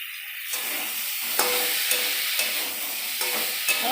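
Food frying and being stirred in a pan with salt and chili powder, a continuous sizzle punctuated by repeated scraping stirs and light utensil knocks, close and alone.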